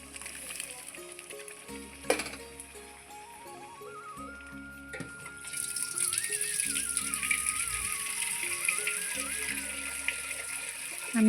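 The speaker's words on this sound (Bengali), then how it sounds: "একটু জল দিব ডালের" Water pours into dal simmering with boiled vegetables and fried spices in a home kitchen, a soft, steady splashing under background music with a few clinks of utensils.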